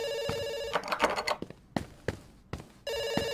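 An old-style telephone bell rings in the video game Dr. Langeskov, The Tiger, and The Terribly Cursed Emerald, two loud close bursts of ringing separated by clattering thumps.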